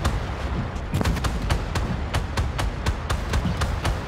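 Marder 2 infantry fighting vehicle's autocannon firing high explosive rounds in the tank game Armored Warfare, a steady series of sharp, loud thudding shots at a regular rhythm over continuous engine and battle rumble.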